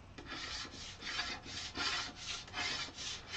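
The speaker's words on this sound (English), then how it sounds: "scrapey scrapes." A tool scraping across the surface of an oil painting to smooth it, heard as repeated rhythmic rasping strokes about twice a second, close and steady, with no talking.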